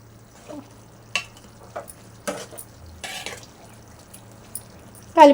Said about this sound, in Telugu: కూర వేసుకున్నాను కదా ఒకసారి అలా కలుపుకోవాలి